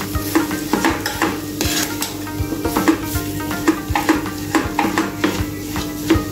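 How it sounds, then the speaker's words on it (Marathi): Masala and green peas for matar kachori filling pressed and sautéed in a pan, with steady sizzling and repeated scraping and stirring clatter of a spatula against the metal pan, close and busy, no talk. "छान असं हे दाबून दाबून परतून घ्यायचा आहे हा मसाला आपल्याला"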